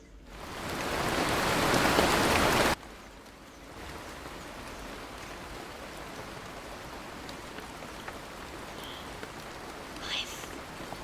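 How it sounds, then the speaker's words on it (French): Recorded rain plays for ASMR, a loud dense hiss for a few seconds that suddenly drops to a softer steady patter of rainfall with faint scattered sounds. "Genre des bruits de pluie et tout."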